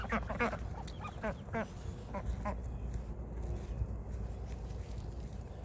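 Several farm ducks quack in short bursts over a steady outdoor hum during morning feeding, the calls clustered early and fading to scattered background noise.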